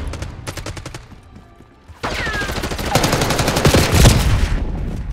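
Rapid automatic gunfire bursts crackle continuously in the Black Ops 6 multiplayer beta, dense overlapping shots from several weapons growing louder after a brief lull.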